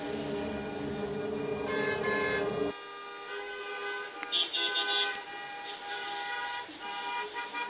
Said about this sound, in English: The honking comes from outside.